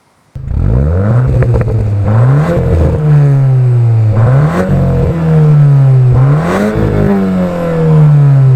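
A 2021 Volkswagen Arteon R Shooting Brake engine revs hard several times, the exhaust note rising and falling in repeated surges, loud and close, with no talking.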